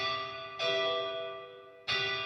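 Tonal, bell-like reverb tail from the PSP PianoVerb plugin, with the tuning shifted up so the ringing pitch sits higher; two bright struck onsets each ring out and fade in a long, sustained resonant wash.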